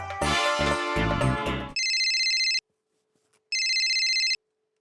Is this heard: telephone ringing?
yes